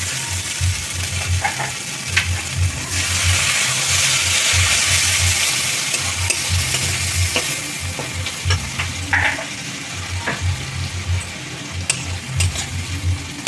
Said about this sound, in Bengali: মশলাটা কাজ কষিয়ে নেবো ভালো করে।